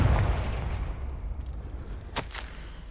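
Confringo blasting spell explosions in the video game Hogwarts Legacy: a deep rumbling boom at the start decays away, followed by a sharp crack of a second blast near the end.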